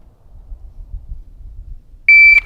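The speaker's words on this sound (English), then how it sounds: "I'm just simply waiting for that beep." A shot timer gives one loud, sharp electronic beep during pistol draw practice. It follows a quiet stretch of faint low rumble and shuffling.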